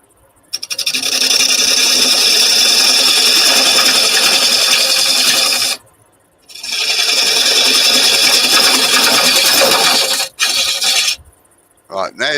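A hand tool rasps repeatedly against wood as a piece is hollowed into an inward curve, loud scraping strokes in two long bursts with short pauses and a brief voice near the end.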